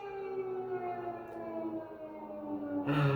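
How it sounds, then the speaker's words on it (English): A loud siren wails steadily with layered sustained tones, the pitch drifting slightly, joined by a sharp burst of noise near the end. "the sirens are getting pretty loud"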